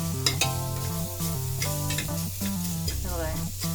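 Chopped onion sautéing in a pan for a Malvani pumpkin curry, a continuous close sizzle with the scrape of stirring, steady and fairly loud throughout.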